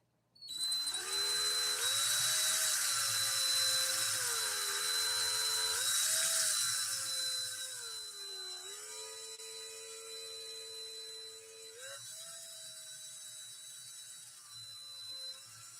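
A DeWalt drill runs continuously winding thread onto a bobbin, a steady high motor whine with slight pitch dips as the load shifts, close and alone for about fifteen seconds.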